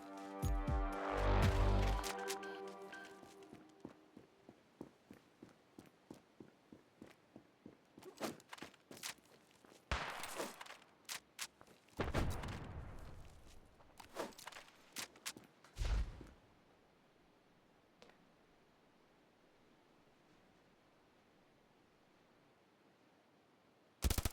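Gunfire in the mobile shooter Standoff 2, an M4A1 crackling in quick bursts and single shots, with a loud blast at the start and quieter ambient noise trailing off.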